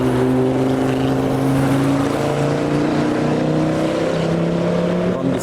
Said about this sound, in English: Understeer from the Porsche.